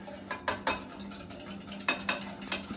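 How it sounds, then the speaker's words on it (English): Hot chocolate powder mix being stirred in a pot, a utensil clinking and scraping against the metal in a few quick bursts, close by and moderately quiet. "And then you stir it."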